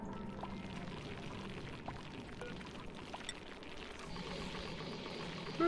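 Polluted water pours steadily in the colony game Oxygen Not Included, a soft continuous trickling stream heard alone at moderate level.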